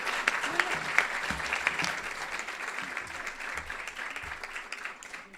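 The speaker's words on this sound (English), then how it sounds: "Please, a round of applause for that." Audience at a women's leadership awards celebration applauds in sustained clapping, moderately loud at first and tapering gently, with faint voices murmuring underneath.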